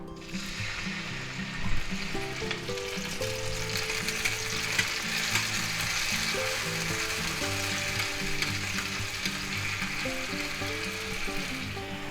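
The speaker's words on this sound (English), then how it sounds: "we're going to just stir it around good in the oil here" Minced garlic sizzles steadily in hot oil in a pan for creamy garlic butter pasta, a dense continuous crackle with occasional stirring, close and fairly loud, no talking.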